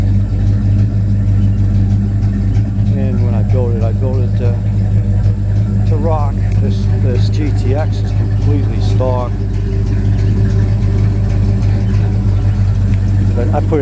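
A classic muscle car's freshly built engine, paired with a Tremec TKO 600 five-speed, rumbles at a steady low idle throughout while someone talks over it at length.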